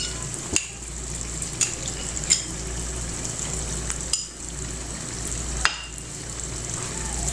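Yogurt and cream being mixed into a sizzling chicken karahi in a pan, a steady frying hiss with a few sharp scrapes and clinks of the spoon at irregular intervals, no talking.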